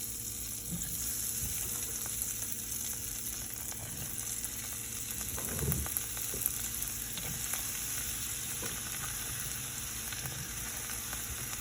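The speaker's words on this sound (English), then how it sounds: "We're going to mix that butter in, and I'm going to throw in some mushrooms." White button mushrooms and butter sizzle steadily in a hot pan, with occasional stirring scrapes and a slightly louder flare of frying midway, no voices present.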